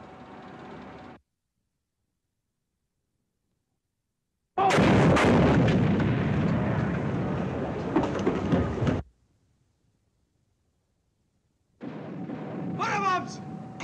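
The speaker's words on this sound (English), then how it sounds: "Bombs!" Depth-charge bombs from an American destroyer burst around a German U-boat in a WWII war film, a long loud roaring blast between quieter stretches with voices before and after.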